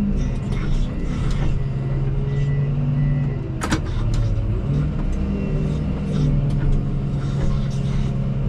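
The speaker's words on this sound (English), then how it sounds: "Eight trucks lined up now." Trucks idle and move in a line at a yard during the purchase of a Komatsu WA270-7 wheel loader, with engine rumble, a louder passing revving burst midway, and people talking over the vehicle noise.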